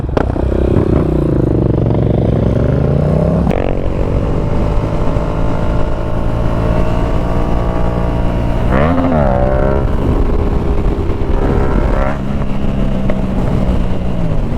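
A motorbike revs hard and steadily while doing a wheelie outdoors, its loud engine droning throughout with pitch rises and dips as the throttle is worked, close to the microphone.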